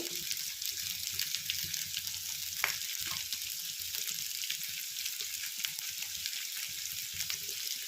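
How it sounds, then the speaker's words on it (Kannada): Potatoes and onions fry in oil with turmeric powder, a steady close hiss and sizzle throughout with faint stirring scrapes and one brief clink, no talking. "ಸ್ವಲ್ಪ ಬೇಗ ಫ್ರೈ ಆಗುತ್ತೆ ಆಲೂಗಡ್ಡೆ ಮತ್ತು ಈರುಳ್ಳಿ"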